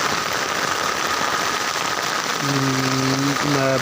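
Steady rain pours down hard on surfaces during severe flooding in Noakhali, Bangladesh, a dense hiss throughout, with a low engine-like hum rising near the end.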